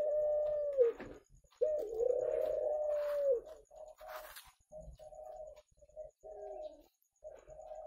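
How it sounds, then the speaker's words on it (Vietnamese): A dove in a breeding cage gives deep, resonant coos in long drawn-out phrases followed by shorter repeated notes, close and clear against a quiet background. "Các bạn nghe là chim gù thổ chưa?"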